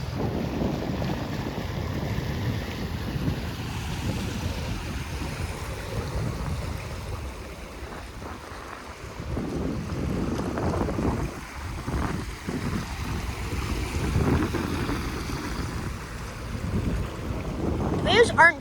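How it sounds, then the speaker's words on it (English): Waves washing over wet rocks at high tide, a continuous rushing surge with heavy wind buffeting the microphone, swelling and easing in loudness across the stretch. "Waves aren't traveling really far."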